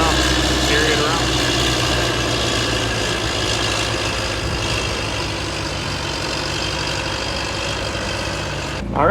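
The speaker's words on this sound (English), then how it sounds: "it's a little easier to move the big trees around when the loader can just pick each one up and carry it around" A loader's engine runs steadily during a large tree removal job, a loud continuous diesel rumble with some background clatter, and people talk over it now and then.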